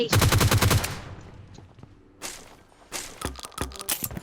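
Rapid automatic gunfire from a PUBG Mobile match cracks in a dense burst at the start, followed by scattered single shots and shorter volleys of varying distance, loud and without talk.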